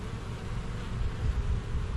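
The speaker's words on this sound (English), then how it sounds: "There's a ball of bees right there." Honeybees buzz steadily inside a hive where workers are balling the queen, a dense continuous hum up close with no talk.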